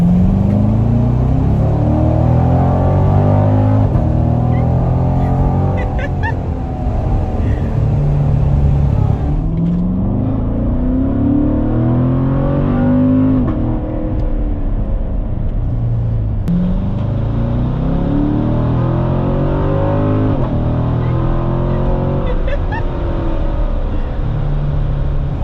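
A Chevrolet Corvette Grand Sport C7 accelerates hard, its engine rumble climbing in pitch through several gear changes, loud and sustained from inside or near the car.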